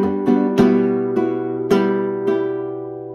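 Flamenco guitar phrase in soleá style, played with down-up strums, a few bright ringing strikes spaced out over sustained chords with a little melody, close and solo.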